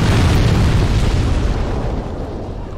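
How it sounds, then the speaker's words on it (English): Fire bombs thrown in the video game Demon's Souls burst in loud, rumbling booms near the listener, one continuous heavy eruption that slowly fades over a few seconds, with no talking. "we're just gonna throw some fire bombs here"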